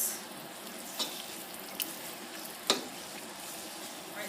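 Onions and garlic sautéing in a pan for homemade marinara sauce, making a soft, continuous sizzle with a few sharp pops scattered through it and no voices.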